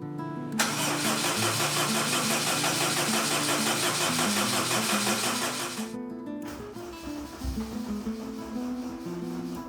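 A Honda K20 engine swapped into a Honda S2000 cranks over repeatedly on the starter without firing, a loud, steady churning that runs for about six seconds, then gives way to quieter mechanical clatter and a faint, uneven bit of turning.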